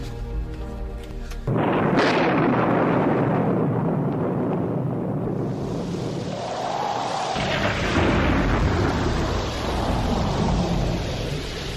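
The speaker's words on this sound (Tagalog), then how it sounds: "Ay, Tomas, sa palagay mo kaya ay hindi maapektuhan ng malakas na ulan ng ating mga bagong tanim na pechay at mustasa?" A heavy rain storm with a sudden loud thunder crack followed by long rolling rumbles, dense broadband rain noise continuing throughout.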